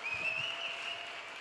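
Audience applauding at a festival stage with a comic and a politician, a dense patter of clapping with a sustained whistle riding over it throughout.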